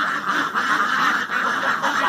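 A Stardew Valley goose honks and quacks in a steady run of nasal calls, loud and close, repeating in quick rhythmic pulses.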